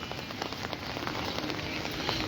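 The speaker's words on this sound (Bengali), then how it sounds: "আমাদের এদিকে প্রচুর বৃষ্টি" Steady, dense heavy rain in Cumilla pouring down and pattering on surfaces, a constant hiss with scattered nearer drops throughout.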